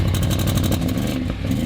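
A BMW X6 engine rumbles loudly up close, revving with a throaty, pulsing growl and a slight dip near the end.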